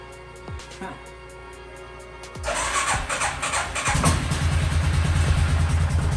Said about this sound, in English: just gonna start up the engine